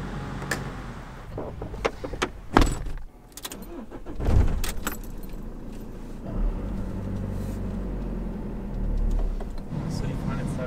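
A car drives slowly through traffic leaving the Caravan Salon trade fair grounds in Düsseldorf, with a steady low engine and road rumble, a few clicks and thumps inside the cabin, and occasional talk.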